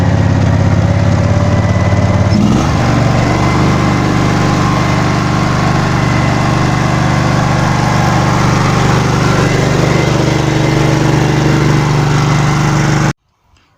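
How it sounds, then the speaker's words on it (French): A ride-on lawn tractor mower engine runs loudly and close, with a shift in its drone early on as the power setting changes, then a steady, humming idle until it cuts off abruptly near the end. "Vous allez entendre le bruit, vous allez entendre le changement. Comme tous les tracteurs tondeuses, on change la puissance."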